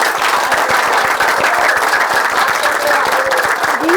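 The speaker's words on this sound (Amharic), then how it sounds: "ጭብጨባው ግን ያንሳል።" Audience applause at an Easter event, a dense run of clapping from a crowd that carries on steadily for a few seconds.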